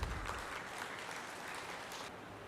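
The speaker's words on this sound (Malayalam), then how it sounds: "കയ്യടികളോടെ." Applause from the audience at an SNDP Yogam Delhi Union Sreenarayanagurudeva Jayanthi celebration in Mehrauli, greeting the chief guest. It is a steady, moderately loud wash of many hands that runs for the whole stretch and eases off near the end.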